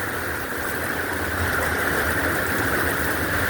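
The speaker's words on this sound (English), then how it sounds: "how much rain we're getting" Heavy rain pours steadily during a thunderstorm in St. Charles, Missouri, a dense, continuous wash of noise that stays loud and even throughout, with no voices.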